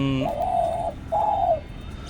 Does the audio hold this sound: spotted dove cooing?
yes